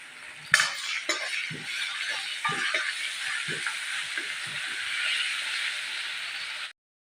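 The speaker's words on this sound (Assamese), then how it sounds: "এতিয়া অলপ পিঁয়াজখিনি ৰঙচুৱা হ'লে ভাজি ল'ম" Onions and ginger-garlic paste fry in a pan with a continuous close sizzle, punctuated by repeated scraping and clinking stirs of a spoon, before cutting off abruptly at the end.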